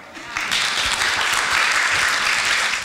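An audience at a medical conference breaks into applause, a steady wash of many hands clapping that swells in after a moment and carries on loudly, with a voice speaking over it.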